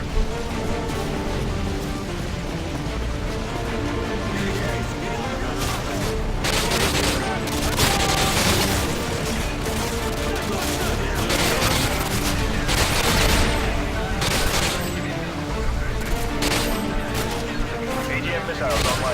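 Gunfire in the Modern Warfare 2 Contingency mission, with bursts of automatic fire and heavy impacts. It comes in rapid irregular volleys, loud and close, with game radio voices over it.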